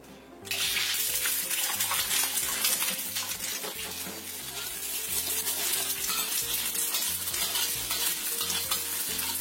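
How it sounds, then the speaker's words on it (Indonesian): Steady sizzling of scrambled eggs frying in hot oil, with scraping and stirring sounds throughout, loud and close, no voices. "Kita goreng telur orak-arik."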